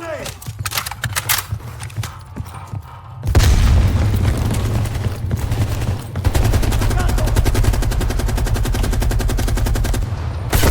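Gunfire and a grenade blast in the Call of Duty Black Ops Cold War campaign: sharp shots, then a heavy boom followed by sustained rapid automatic fire, loud and dense, with shouted voices mixed in.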